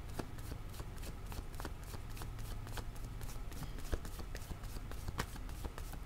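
Oracle cards are shuffled steadily by hand during a reading, giving a continuous dense riffling patter with soft flicks throughout and no talking.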